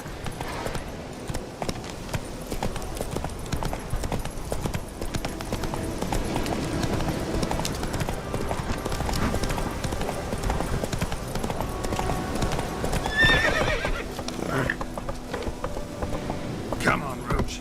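Horse Roach in The Witcher 3 gallops with rapid, steady hoofbeats throughout, joined by a brief whinny near the end, over game ambience with a voice talking at times.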